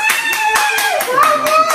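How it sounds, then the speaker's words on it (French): Several hands clapping in quick, even applause for under two seconds, close and loud, with a voice briefly mixed in. "j'applaudis pour moi aussi"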